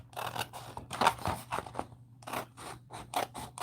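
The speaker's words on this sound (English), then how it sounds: "Let me just cut this out right here." Scissors snip through paper at a craft table, a run of about a dozen crisp, close cuts in an irregular rhythm with short pauses between strokes, under a faint steady hum.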